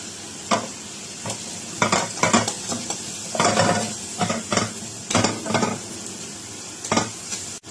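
Tinapa (smoked fish) flakes being stirred into sizzling palabok sauce in a pan, with repeated scraping stir strokes over a steady frying hiss, close and alone with no talking.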